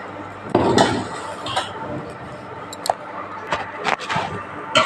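Washed rice tipped into a pot for mutton biryani, giving bursts of rattling clinks and several sharp metallic knocks against the pot at close range.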